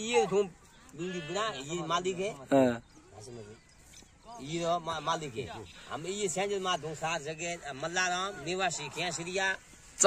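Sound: sheep bleating

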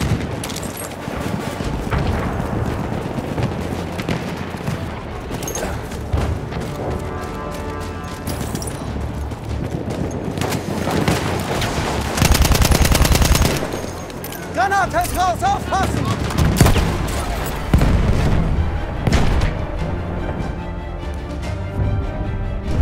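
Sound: enemy machine gun firing in video game Battlefield 1

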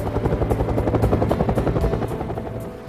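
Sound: Huey helicopter flying, rotor blades

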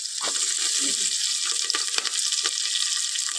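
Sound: whole chillies frying in oil

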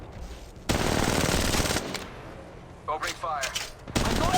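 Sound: gunfire in the video game Apex Legends Mobile

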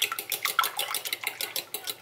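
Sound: whisking eggs with salt for an omelette

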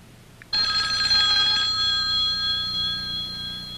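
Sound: telephone ringing

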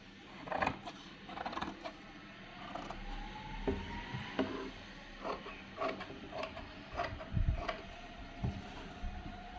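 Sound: cutting blouse fabric along the marking

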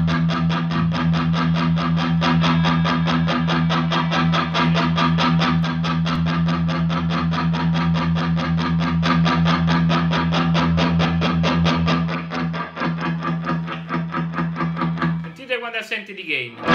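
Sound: electric guitar through Mooer Hustle Drive pedal, high power mode

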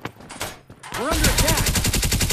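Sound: loud gunfire from enemy weapon in a video game

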